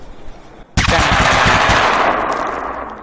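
An AK-47 rifle in the zombie game TABZ fires a loud, sustained automatic burst that starts abruptly after a short quiet stretch and keeps rattling rapidly to the end.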